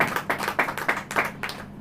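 A church congregation claps in unison during a sermon, a steady rhythmic series of about seven loud, close claps at an even pace.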